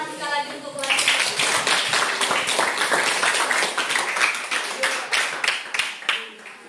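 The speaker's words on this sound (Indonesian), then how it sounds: "Tepuk tangan sekali lagi untuk kelas." Clapping from a school class breaks out after a brief voice and continues steadily for several seconds, with scattered individual claps standing out near the end.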